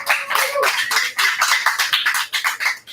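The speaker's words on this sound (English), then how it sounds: "Let's hear some applause for PackHelp." Applause from a meetup audience at a JavaScript community's birthday event, honouring the sponsor PackHelp: a dense, steady patter of many hands clapping together, fairly close and sustained with no pauses.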